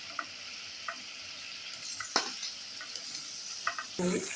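Potatoes, pointed gourd and pumpkin frying in a pan while a utensil stirs them, giving a quiet low sizzle broken by a few sharp scrapes and clicks.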